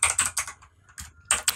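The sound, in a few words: typing on a computer keyboard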